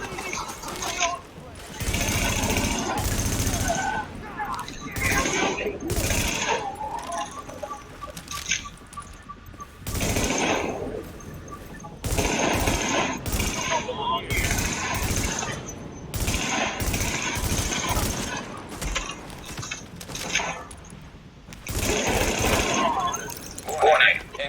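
Gunfire in The Division video game, with bursts of automatic shooting and scattered shots coming in repeated clusters, loud and fairly near, alongside spoken game voices and someone talking.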